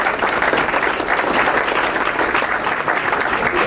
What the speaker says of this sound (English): Let's give another hand of applause for this great panel